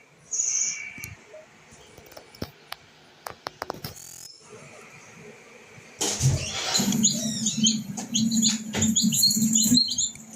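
High, thin chirps from a baby chick hatching out of its egg, a few short peeps near the start, then scattered clicks and taps, followed by a rising burst of repeated chirping over a rustling, shuffling background.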